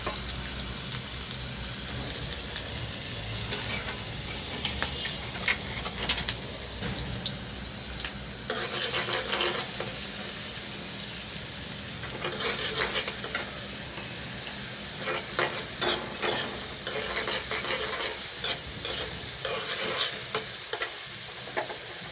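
Onion and green chili frying in mustard oil in a pan, a continuous sizzle with bursts of spatula stirring and scraping, growing more clattery toward the end.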